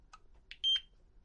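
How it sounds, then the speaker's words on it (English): Short electronic beeps from an Interlogix Simon XTi alarm panel as it powers on, a couple of faint chirps followed by a brighter, steady tone lasting about a quarter second, heard close in a quiet room. "I'm going to release it, and you're going to hear a beep."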